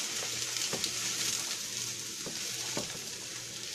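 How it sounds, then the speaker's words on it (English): Food for General Tso's chicken fries in a little oil in a pan, giving a steady close sizzle with a few distinct scraping stir strokes. "Let me give this a quick stir here"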